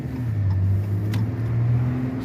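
A Ram pickup truck rolling down a street on a test drive, a steady low engine drone with a mild swell midway, close and continuous with no speech.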